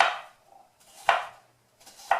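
A knife chops cucumbers on a cutting board in three separate, crisp strokes about a second apart, close and clear, with quiet pauses between and no voices.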